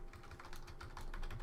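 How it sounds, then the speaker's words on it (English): Quick, steady keystrokes patter on a computer keyboard for a short moment, heard close up and alone. "you can just type in Tablepress"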